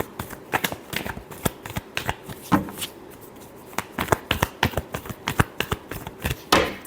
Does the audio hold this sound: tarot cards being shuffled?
yes